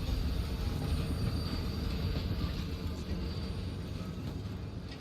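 A moving train in the video game Dishonored 2, a continuous low rumble with faint metallic wheel whine, steady and slightly fading over several seconds, no talking.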